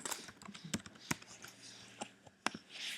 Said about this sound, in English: hit F8 on the keyboard